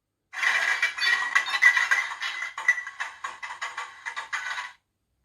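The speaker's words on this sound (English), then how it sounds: "21, which is wagons clanging." Wagons clanging as a sound function on a Hornby class 37 model locomotive: a continuous run of metallic clanks and rattles, close and fairly loud, pulsing irregularly for about four seconds before stopping.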